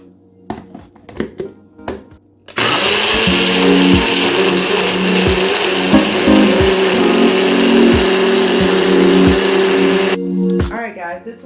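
A blender whirs loudly for about eight seconds, chopping spinach and ginger in a steady high roar, with brief kitchen clatter and movement before and after.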